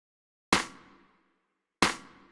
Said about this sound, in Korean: 여기에 있는 다양한 소리들을 섞어 부족한 크랩 소리를 만들었습니다